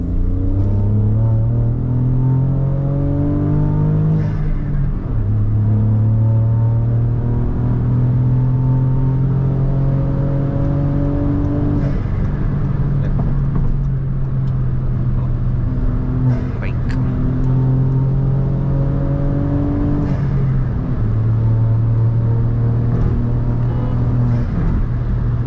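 A Stage 3 modified Skoda Slavia with a 6-speed manual revs hard in 2nd gear, the engine note climbing in repeated pulls with pauses between them, heard from inside the cabin with someone talking over it.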